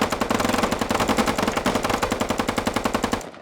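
Rapid automatic gunfire in the military shooter game Squad, a loud, dense burst of machine-gun shots in a steady stream for about three seconds before cutting off.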